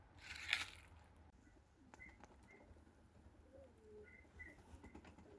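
Soft, low pigeon coos repeat faintly in the distance, with a brief flutter near the start and scattered chirps in a quiet outdoor setting.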